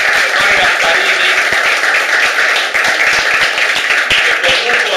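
Audience at an art exhibition opening in La Boca applauds the outgoing president of the association, steady dense clapping from many hands, loud and continuous throughout.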